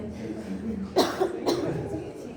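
Two sharp coughs close by, a second apart, over quiet classroom noise and a faint murmur of voices.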